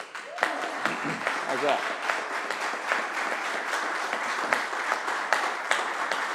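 An audience at a Maryland government announcement claps steadily and cheers with a whoop, a dense, sustained round of applause while a voice speaks briefly over it.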